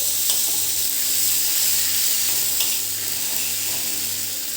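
Red chilli and green coriander masala paste stirred in a hot pan for street-food masala patties gives a steady, close sizzle with faint scraping strokes throughout, no voices.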